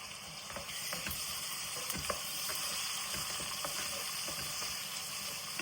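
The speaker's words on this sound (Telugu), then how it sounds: "చూసారు కదా, ఆనియన్స్ ఫ్రై అవుతున్నాయి కదండి." Onions and tomato fry in a pan for mutton keema biryani, a steady close sizzle with occasional clicks and scraping from stirring throughout, no talking.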